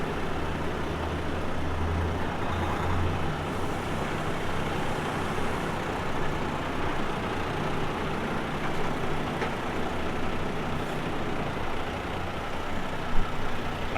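A Ford F450 truck is driven into place, its heavy engine giving a steady, close low rumble with a constant idle-like drone throughout.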